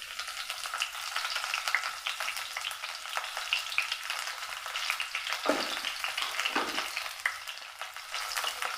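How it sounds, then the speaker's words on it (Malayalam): Crushed garlic, ginger and curry leaves sizzle steadily in hot oil, a dense crackling hiss throughout with a couple of brief stirring scrapes, no voices. "എണ്ണ നല്ല ചൂടായി വന്നിട്ടുണ്ട് ഇതിലേക്ക് നമുക്ക് ചതുക്കിയെടുത്ത വെളുത്തുള്ളി ഇഞ്ചി കറിവേപ്പില"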